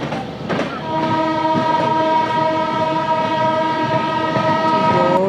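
The Bhopal Express departs a station in India, its long horn blaring steadily and loudly close by over rumbling, clattering wheels as it gets underway.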